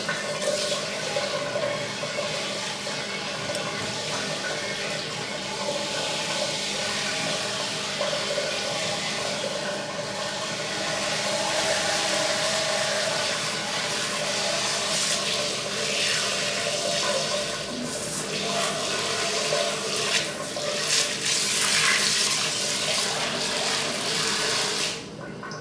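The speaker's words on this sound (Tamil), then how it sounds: "ஜல்லுன்னு தண்ணியை பீச்சி அடிச்சாச்சு." Water sprays steadily while a fish tank is cleaned, a continuous broadband rush with splashing that holds level for the whole stretch before dropping off at the end.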